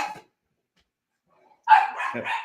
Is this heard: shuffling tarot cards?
no